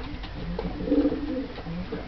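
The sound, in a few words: pigeon cooing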